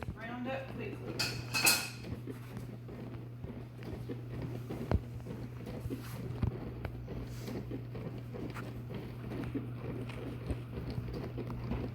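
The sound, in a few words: sausage being crumbled and browned in a pan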